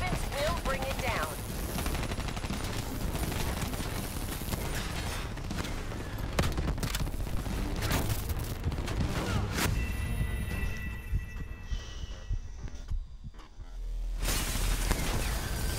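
Heavy cannon and automatic gunfire roar continuously in a video game, dense bursts of shots layered over booming blasts, with a brief lull before the barrage resumes loudly.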